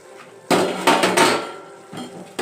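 A lid lifted off a pot of naati-style chicken biryani: three sharp metallic clanks in close succession, then a softer knock, loud and near with no talk.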